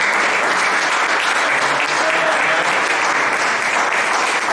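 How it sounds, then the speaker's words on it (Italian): A big round of applause from an audience after a talk on local fish and vegetable specialties, a thick, steady wash of clapping that stays loud and even from start to finish. "È un grande applauso"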